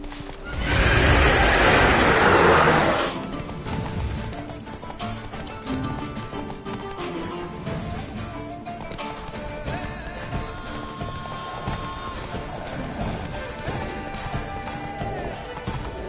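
Roach the horse in The Witcher 3 lets out a loud neigh, then gallops on with steady rhythmic hoofbeats that carry through to the end.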